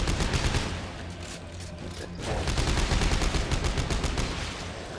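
Rapid, sustained bursts of plasma cutter gunfire in Dead Space 3, dense and loud, easing briefly in the middle before resuming.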